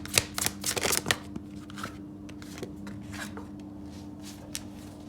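Tarot cards are shuffled close up in a quick run of crisp riffling flicks, then a few softer, sparser card taps and slides in a quiet room.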